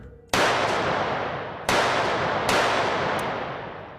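Three sharp handgun shots from an Armatix iP1 smart gun, each a loud crack followed by a long decaying echo, spaced irregularly over a few seconds.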